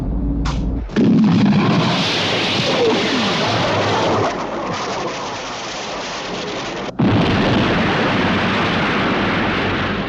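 A loud rumbling explosion in a sci-fi TV show, a sudden heavy blast followed by long roaring, crackling debris noise that fades and then bursts again near the end.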